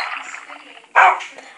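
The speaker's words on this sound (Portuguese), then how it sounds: "cachorro como qualquer um, que dá pra domesticar, né?" A dog in the Minecraft video game barks once, a sharp near yelp following a stretch of softer whining, with speech heard in the background.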